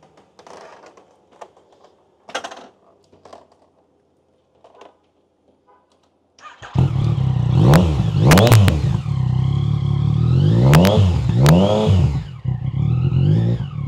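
A BMW F 900 XR or Yamaha XSR 900 motorcycle engine fires up after some quiet clicks and handling noises, then idles loudly with several sharp throttle blips rising and falling, heard up close.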